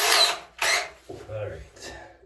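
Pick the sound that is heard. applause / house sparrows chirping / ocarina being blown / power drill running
power drill running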